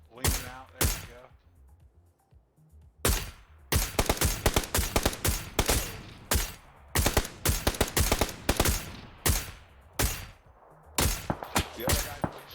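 Rapid bursts of automatic gunfire from the video game PUBG on Xbox, loud sharp volleys repeating in quick clusters with brief gaps between them.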